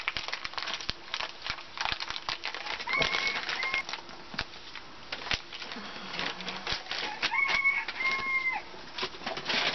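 A rooster under an RV crows twice at moderate distance, partly buried under a steady run of sharp mechanical clicks and taps from nearby work.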